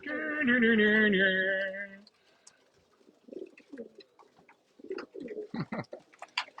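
Racing pigeons coo in a loft at feeding time, one loud harmonic coo lasting about two seconds up close, then quieter scattered coos, flutters and chirps from several birds.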